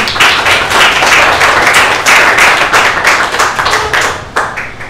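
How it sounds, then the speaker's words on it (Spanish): Audience applause after a talk on a theatre-themed programme, dense and sustained clapping at close range for several seconds, fading slightly near the end, with no talk over it. "Un aplauso."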